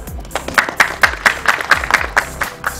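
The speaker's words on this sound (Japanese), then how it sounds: "拍手を浴びながら呼び込まれたのはデコナル横丁の仕掛け人" Rhythmic clapping from a gathered crowd at the grand opening of Deconal Yokocho, a new food stall village in Takayama, with about ten steady, evenly spaced claps at moderate loudness and no talk.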